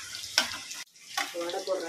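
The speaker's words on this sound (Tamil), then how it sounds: "வடை போடுறேன். உருண்டை போடுறேன் பாரு." Hot oil sizzles and crackles steadily as vada batter hits the pan, with a brief quiet gap before the frying hiss resumes.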